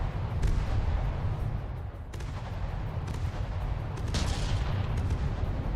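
Naval guns firing in the video game From the Depths, a continuous dense roar of repeated booming blasts and crackling shots, loud and steady with occasional sharper reports, no voices.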